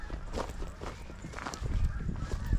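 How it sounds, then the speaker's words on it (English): Geese flying overhead honk in scattered calls on a state park hiking trail, moderately loud against outdoor background noise and a few footsteps. "You can hear more geese flying by."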